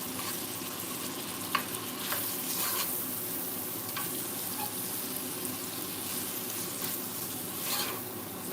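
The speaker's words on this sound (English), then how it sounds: "So I'm going to keep stirring until the meat is no longer pink" Ground meat stirred in a sizzling frying pan with dried basil, a steady broadband fry hiss throughout with occasional scrapes and clicks of the spoon against the pan, no talking.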